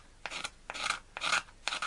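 A scraper rasps old Scotch glue off a wooden Sorrento box in four steady, close strokes, each a dry gritty scrape with brief pauses between.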